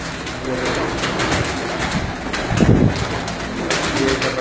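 Pigeons of a bred fancy stock coo softly over a busy background of rustling and other bird calls, with one fuller burst of cooing midway.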